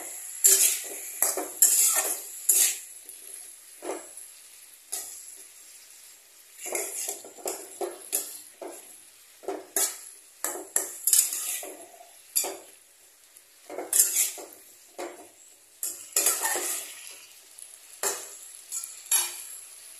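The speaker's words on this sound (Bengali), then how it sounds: "আদা বাটা দিয়ে আমি এটাকে একটু ভালো করে নাড়ব" Chilli curry (morich jhol) with ginger paste being stirred in a pan, with a steady run of close scraping and clinking strokes of a spoon against metal over a faint sizzle.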